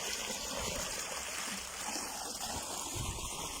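Water flows steadily from a rice paddy irrigation system beside hybrid rice plants, a continuous close trickling and streaming wash that holds at an even level throughout with no talk.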